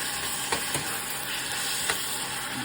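Beans stirred in a cooking pot give a steady, close sizzle and bubbling, with a few soft spoon scrapes and knocks standing out now and then.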